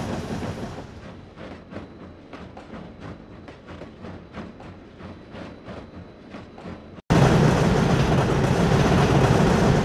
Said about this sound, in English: Here our train is about to pass the station at Cumbres Pass.